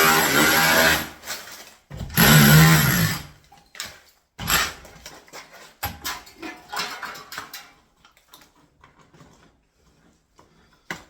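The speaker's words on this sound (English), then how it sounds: "my SDS drill." An SDS drill whirs and hammers into a kitchen wall in short loud bursts, then several briefer intermittent runs that fade toward the end, no talking.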